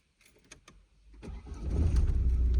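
Keys rattle and a click or two, then a car engine cranks and catches, rising into a steady, loud idle close by.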